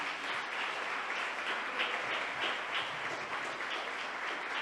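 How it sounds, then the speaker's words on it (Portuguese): A church audience applauds steadily and loudly for a few seconds, a dense, continuous wash of many hands clapping together with no voices over it. "Aplaude a Jesus por isso."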